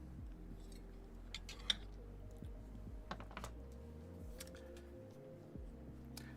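Keystrokes on a mechanical keyboard fitted with new keycaps, sparse and uneven taps, fairly quiet and close, with no talking.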